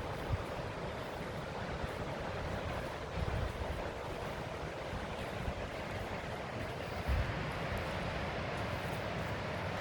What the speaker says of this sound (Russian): Только ветер такой.